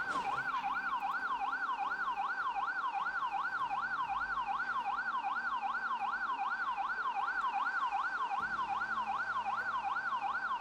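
An ambulance siren wails in the video game Project Zomboid, a loud, continuous rising-and-falling electronic tone that repeats evenly throughout, with a faint vehicle rumble underneath and no talking.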